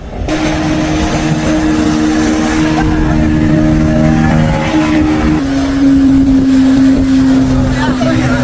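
Fishing boats motoring in toward shore at Velankanni bridge after a sardine catch, a steady loud engine drone with a shifting hum throughout, a voice talking over it.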